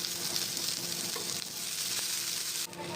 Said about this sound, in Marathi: कांद्याला चांगलं लाल परतून घ्यायचं